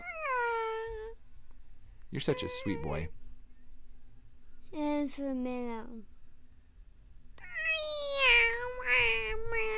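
A person imitates a cat with a series of high, drawn-out meows in several bursts, close and clear, while another voice speaks softly in between.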